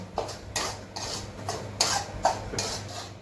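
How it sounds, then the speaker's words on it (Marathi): Semolina being dry-roasted in a pan for sweet jaggery sheera, a steady rhythmic scraping and stirring with regular strokes roughly twice a second, close and moderately loud. "रवा लालसर भाजून घेत आहे आणि मग त्याच्यामध्ये तूप टाकणार आहे।"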